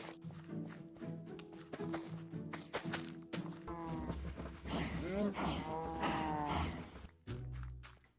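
Minecraft cows moo repeatedly at close range as they are bred in a hardcore survival world, with long drawn-out lowing calls over tapping and thunking game sounds and no speech.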